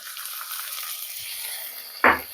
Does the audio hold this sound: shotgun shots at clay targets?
no